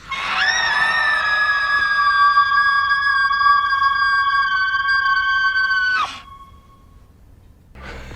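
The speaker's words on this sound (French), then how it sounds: "ça serait juste un enfant qui crie sans arrêt" A child's scream held in one long sustained, high-pitched cry for about six seconds, loud and alone, cutting off abruptly and followed by quieter background sound.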